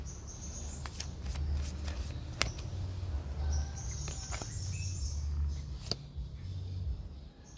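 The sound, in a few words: drawing tarot cards from a deck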